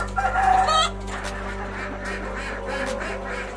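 Imported laying hens cluck and a rooster crows close by at a poultry farm, one loud crow near the start followed by steady overlapping clucking and fowl chatter throughout.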